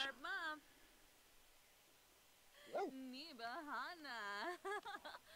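A dog in The Sims 4 life-simulation game gives short whining yips and whimpers, a brief call at the start, then a longer run of rising and falling whimpering cries, moderately loud against quiet background.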